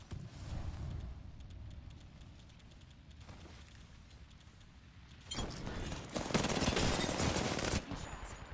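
Dense rapid gunfire bursts crackle loudly in an Apex Legends match, building to a sustained volley in the second half over a rumbling game background, with no talking.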